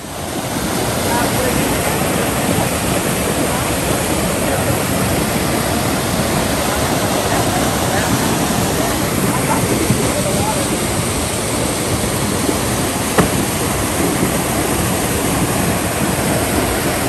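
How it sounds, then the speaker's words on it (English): A small waterfall on a trout stream beside a rail-trail bike path gives a steady, loud broadband rush of falling water that holds constant throughout, with no talk over it. "at one point there is a small waterfall"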